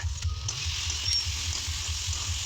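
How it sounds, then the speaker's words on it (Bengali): Potatoes frying in hot oil with cumin and chili spices, a steady close sizzle with a low bubbling rumble underneath, continuous and unbroken with no voices. "কিছুক্ষণ 5 মিনিট আলু আর মশলা ভাজতে হবে একসঙ্গে মিশিয়ে"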